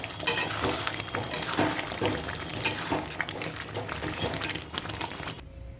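Garam masala stirred into a simmering prawn malai curry, a spoon scraping and clattering against the pan over a bubbling sizzle, close and continuous for several seconds before stopping abruptly.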